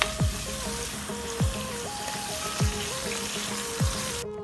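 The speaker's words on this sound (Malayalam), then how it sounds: "ഇനി നമുക്കിത് ഇളക്കി കൊടുക്കാം ലോ ഫ്ലെയിമിൽ വേണം ഇതൊക്കെ ചെയ്യാൻ" Ingredients for a duck curry frying on a low flame, a steady soft sizzle underneath recurring background music, with a few gentle stirring knocks at regular intervals.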